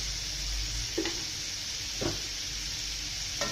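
Kashmiri red chilli powder, homemade chilli powder and garam masala sautéing in a pan make a steady, even sizzle, broken by three brief stirring scrapes spaced about a second apart.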